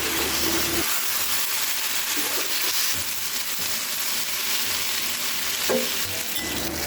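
Chicken and potato bhuna fries in a pan with a loud, continuous sizzle, broken by repeated scraping strokes of a spoon stirring through it; close up, no voices.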